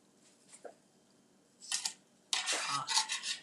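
A seared fish fillet is flipped in a pan during a live fish-taco cooking demonstration, giving a couple of metallic spatula scrapes followed by a louder burst of sizzling and clattering that continues to the end.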